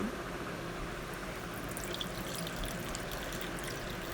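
Separated water being poured off coconut milk while making coconut oil at home, a continuous close splashing pour that runs steadily throughout with no speech.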